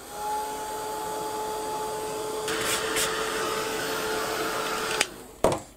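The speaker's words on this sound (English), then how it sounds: "I'll give that a quick blast with the heat gun as well." A heat gun blows with a steady airy roar and faint whine for about five seconds, then cuts off, followed by a brief clunk as it is set down; no one speaks.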